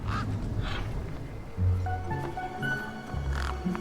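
Honking, goose-like bird calls from the video game Beyond a Steel Sky, several loud calls repeating over a busy ambient game background.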